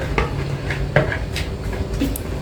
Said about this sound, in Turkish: Şöyle bir karıştırıyorum mayayı